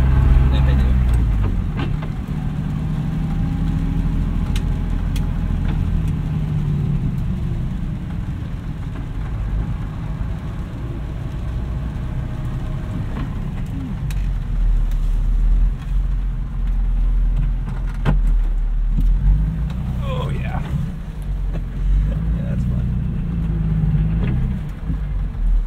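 A 1991 BMW 325i E30 with a swapped S50 engine being driven, heard from inside: a steady low engine drone with road noise, rising and falling with throttle, and occasional voices talking.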